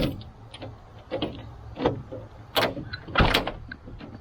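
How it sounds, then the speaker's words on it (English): Side door of a vandalized van popped open, a run of clunks, rattles and latch knocks building to a sharp loud thud near the end, with handling noises between. "Okay, let me pop this door open."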